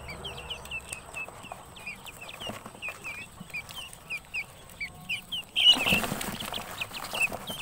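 About fifteen two-week-old guinea fowl keets call in a kitchen-free coop setting with rapid, repeated high peeping chirps, close and continuous, growing louder and busier near the end.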